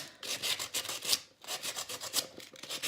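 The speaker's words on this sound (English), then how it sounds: "run the sandpaper back and forth, especially on like the words" Sandpaper rubs back and forth on a glass mason jar, making quiet, rhythmic scratchy rasping strokes with a short pause midway.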